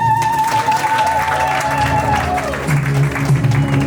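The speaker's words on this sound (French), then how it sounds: "Sous vos acclamations." Loud, steady applause fills the room throughout at a wedding ceremony, with a sustained tone and murmuring voices mixed in underneath.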